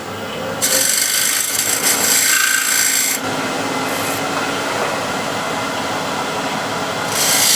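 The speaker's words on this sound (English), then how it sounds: "now I can first cut the side, and I'll use the spindle gouge for that" A spindle gouge cuts the side of a wooden piece spinning on a lathe, giving a loud, continuous rasping hiss that shifts in tone as the cut progresses, with brief pauses and changes in pressure.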